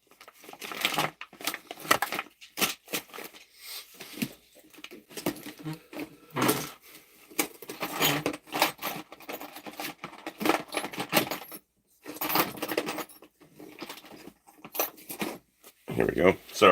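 Small tools clatter and jangle in quick, irregular bursts as someone rummages through a workbench for a small Allen wrench, near and fairly loud.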